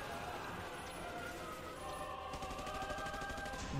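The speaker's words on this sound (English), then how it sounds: "He has like bullets that come out of his fingers." Rapid anime gunfire from Hunter x Hunter, a character shooting bullets from his fingertips, heard as a dense, continuous burst of crackling shots mixed with other loud soundtrack noise.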